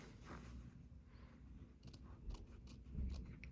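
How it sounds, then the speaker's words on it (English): Small sharp scissors snip close by in a few quick, crisp cuts into fabric, with a soft scraping of cloth between them. "I like using these small sharp scissors to start."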